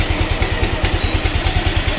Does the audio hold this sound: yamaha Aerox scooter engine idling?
yes